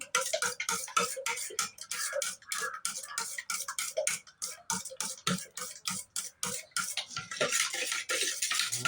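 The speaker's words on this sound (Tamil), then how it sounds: "முட்டை நல்லா அடிச்சாச்சுங்க" Eggs are beaten in a bowl for a milk egg bread roast, making quick rhythmic clicking taps of a utensil against the bowl that run almost continuously before easing near the end.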